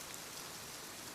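Steady rain falls continuously, a soft, even hiss of drops spread across the whole clip at low, constant volume with no voices.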